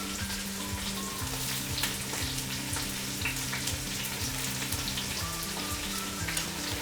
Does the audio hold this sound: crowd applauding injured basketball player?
no